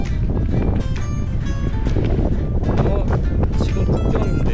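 Strong wind roars continuously across the microphone while cycling near the Slovak border on a European bike tour, a loud broadband rush with light mechanical rattles on top.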